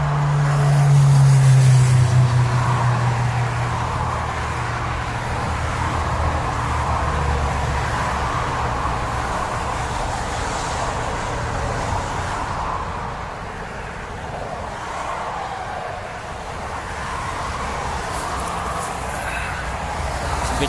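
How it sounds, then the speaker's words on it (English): A car crosses a bypass road beside the M6, heard as a steady, loud roar of passing traffic over about twenty seconds of continuous road noise. "There's a car coming over the bypass."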